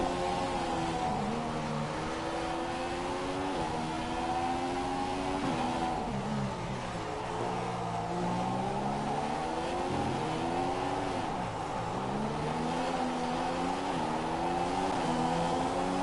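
A race car engine in a racing video game revs while pitting, its droning whine rising and falling in repeated sweeps, steady and fairly loud with no talk.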